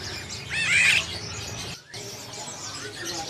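A caged red-eyed bird chirps in a bird shop, giving a short, fairly close burst of bright calls early on, followed by quieter shop ambience with no talk.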